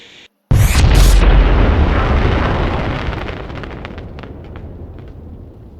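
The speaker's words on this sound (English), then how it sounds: "So this is what happened when you light a firework inside your house." A firework goes off inside a house in the video game Fireworks Mania, a loud booming burst with sharp crackles, followed by a few seconds of fading rumble and scattered pops.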